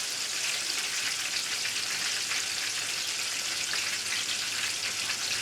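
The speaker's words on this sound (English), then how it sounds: "So it's frying well, deep fry" Oil sizzles and crackles steadily as rice paper wraps with mushroom filling deep fry in a pan, a continuous bright hiss at an even level with no talking.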